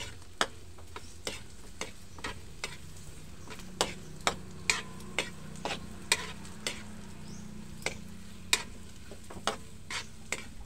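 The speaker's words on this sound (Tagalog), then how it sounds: "saka haluin ito ng mabuti" Toasted jackfruit seeds are stirred in a pan, and a spoon taps and scrapes in a sharp, irregular rhythm roughly every half second over a soft, steady frying hiss.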